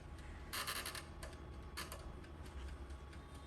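An oven timer ticks steadily after the temperature is set, a faint, regular run of light clicks with a few brighter bursts, close by in a quiet kitchen.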